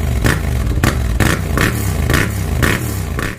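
Yamaha FZ-07 motorcycle fitted with a Black Widow full exhaust, idling loud and close with a deep, steady rumble broken by regular throttle blips roughly every half second.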